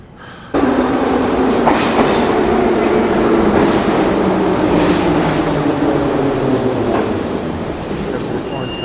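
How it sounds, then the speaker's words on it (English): An orange train passes close by in Kyiv, rumbling in suddenly and loud with clattering wheels and a sustained metallic whine for several seconds, slowly easing off toward the end. "Never seen this orange train before."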